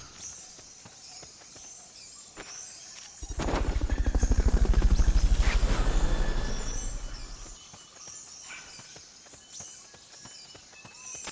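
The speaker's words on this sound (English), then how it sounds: "Fulton recovery subject confirmed onboard helicopter." A video game helicopter swells in with heavy, rapid rotor thumping, peaks for a few seconds, then fades away over a background of ambient noise.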